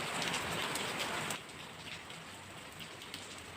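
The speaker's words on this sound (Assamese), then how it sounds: "বৰষুণৰ শব্দ ভাল লাগে কাৰণে চাউণ্ডটো বেকগ্ৰাউণ্ড হিচাপে ৰাখি দিলোঁ" Steady rain falls as background ambience, a dense continuous patter that is louder for the first second and a half, then settles to a softer, even hiss with no voices.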